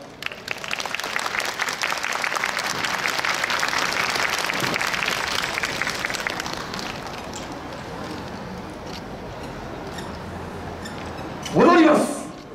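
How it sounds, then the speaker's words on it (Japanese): Audience applause and rhythmic clapping along at an outdoor yosakoi dance festival performance, a dense steady wash of many hands through most of the stretch that thins out later, with a short burst of voice near the end. "ご声援、お手拍子よろしくお願いいたします。"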